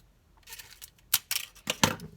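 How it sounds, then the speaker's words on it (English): Scissors snip through thin tin foil in several sharp, crinkly cuts that come close together and sound near and crisp; no one speaks. "I'm going to take my scissors here and just cut off this little bit here"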